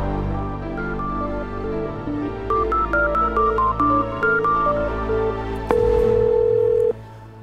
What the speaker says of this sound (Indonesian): Coba deh aku telepon.